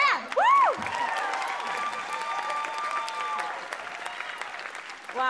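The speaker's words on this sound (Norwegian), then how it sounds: "Applaus for det!" A live revue audience claps steadily, with a rising whoop or whistle at the start, the applause holding for several seconds.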